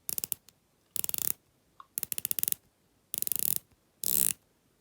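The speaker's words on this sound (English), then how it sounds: "Now the bezel on this works fantastically." Rotating ratcheting bezel on a San Martin retro Water Ghost diver watch, model 6200, gives close, crisp bursts of rapid clicks in five short groups separated by pauses.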